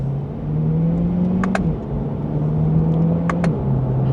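A stock-exhaust Chevrolet Corvette C8 2LT in sport mode accelerates in second gear, its engine drone climbing steadily, dipping at a shift, then climbing again. Sharp clicks punctuate the steady, fairly loud hum.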